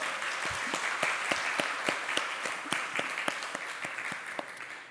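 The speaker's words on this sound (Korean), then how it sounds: "우리 박수로 환영하시겠습니다" A church congregation at Sunday worship claps to welcome a newly registered member, a moderate, steady round of applause with sharp individual claps standing out, fairly close, and no talking over it.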